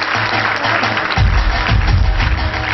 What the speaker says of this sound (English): I think I could hear some louder clap.